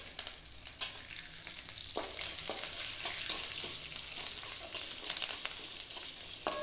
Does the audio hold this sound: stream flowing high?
no